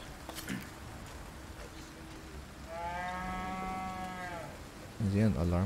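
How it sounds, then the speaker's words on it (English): A cow moos in Resident Evil 4 Remake, one long harmonic low over steady game ambience, then a louder, deeper lowing starts near the end. "The cow is back."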